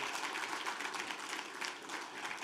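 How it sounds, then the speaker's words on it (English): Audience applause for young people at a talk on content mastery and monetization, a dense, even roll of many hands clapping at a distance, fairly quiet and sustained throughout. "Let's give them a round of applause"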